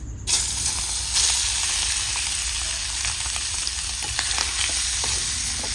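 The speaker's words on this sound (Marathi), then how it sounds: "तूप गरम झाल्यावर त्यामध्ये मॅरिनेट केलेला प्रॉन्स टाका" Marinated prawns fry in hot ghee in a pan, a loud, steady sizzle and hiss with occasional scraping stirs, no voices.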